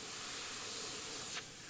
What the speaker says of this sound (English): Lay it down, spray through it, lift it up, check.